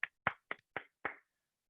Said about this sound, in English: Let us take a minute or a few seconds to clap for their safety